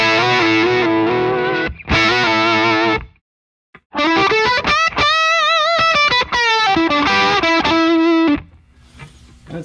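An electric guitar played straight into the amp with no pedal rings out loud, sustained notes and bends in two phrases, broken by a short silence and ending with a fade.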